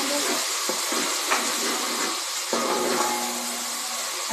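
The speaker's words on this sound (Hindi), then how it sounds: "अब हम इसमें अदरक लहसुन का पेस्ट शामिल करते हैं। 2-3 मिनट के लिए अच्छे से फ्राई करेंगे।" Chopped onion frying with ginger garlic paste in a pan: a steady, close hiss of sizzling oil, broken by occasional scrapes and stirring knocks.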